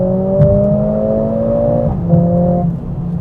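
A Mercedes-AMG A 45 S engine pulls hard under throttle with a loud rising whine. It dips briefly at a quick gearshift, then climbs again, heard from inside the car.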